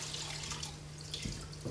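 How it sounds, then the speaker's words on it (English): A mop is wrung out in an old commercial mop bucket wringer during tile floor cleaning, giving a faint, continuous trickle and splash of water with a couple of soft knocks near the end. "I have one of my own old commercial mop bucket and wringers. We're going to wring it out"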